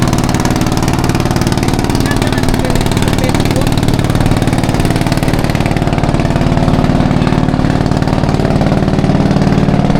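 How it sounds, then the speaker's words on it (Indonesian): Speedboat engine on a river in Indonesia, a loud, continuous droning motor roar that stays steady and close throughout without any break. "Oh, ada speedboat menyusul."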